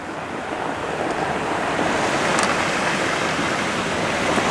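Ocean waves break on rocks along the shore with a steady, loud roar of surf and some wind buffeting the microphone, with no voices.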